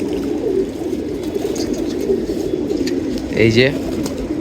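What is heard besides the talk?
domestic pigeons cooing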